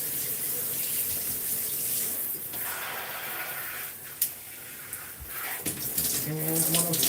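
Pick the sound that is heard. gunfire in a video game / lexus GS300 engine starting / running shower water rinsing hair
running shower water rinsing hair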